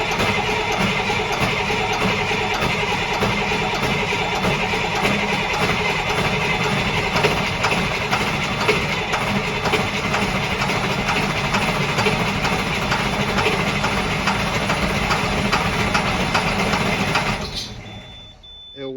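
Rebuilt International 466E diesel engine runs with a loud, rough, steady rumble close by, then cuts out abruptly near the end, with some voice over the noise.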